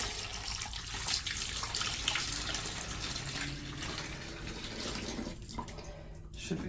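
Liquid poured steadily into the holding tank of a 2024 Jayco 199MBS travel trailer during winterizing, a continuous close-up splashing flow that runs for several seconds before tapering off near the end.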